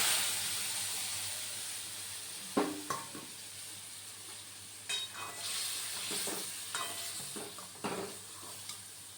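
Pumpkin and red amaranth frying in mustard, a continuous hissing sizzle with intermittent louder stirring scrapes and clatters of a utensil against the pan, no talk.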